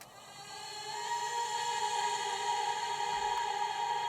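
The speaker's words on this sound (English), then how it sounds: "also some effect vocal atmospheric sounds like this one here" A soft, airy vocal pad drenched in heavy reverb and delay swells in slowly and hangs as a sustained atmospheric wash, fairly quiet and alone.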